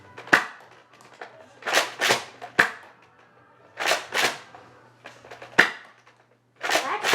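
A Nerf Raptor Strike blaster fires foam darts in a series of sharp snapping shots spaced a second or so apart, each with a brief whooshing tail, close and clear with no talk.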